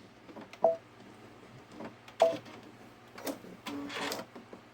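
A Babylock Solaris sewing machine stitches around a quilt block in short mechanical bursts, with whirring runs, pauses and ticking between them, close and fairly quiet.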